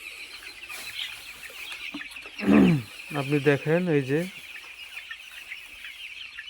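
Chickens on a poultry farm in cold weather, several close clucks and a rising squawk in a quick burst after a quiet stretch, with someone speaking at the start.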